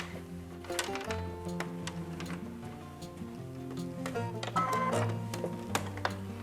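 Sewing machine stitching elastic ends onto a fabric mask, a fast mechanical ticking and whirring in short runs with brief pauses, close by and fairly clear, no talking.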